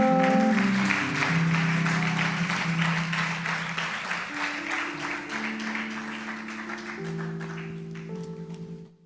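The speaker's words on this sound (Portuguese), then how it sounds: "Alguém pode aplaudir ao Senhor?" A church congregation claps in response to the preacher, the applause steady and broad over sustained organ or keyboard chords throughout.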